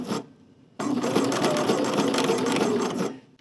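A sewing machine stitches a quilted cotton placemat in one quick, dense burst of rapid needle strokes lasting a few seconds, close and clear after a brief pause.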